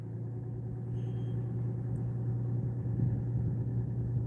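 A truck engine idles nearby with a steady low rumble and hum, continuous and fairly loud throughout, with no talk over it.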